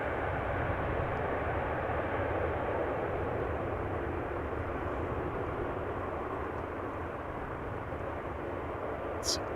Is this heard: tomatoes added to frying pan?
no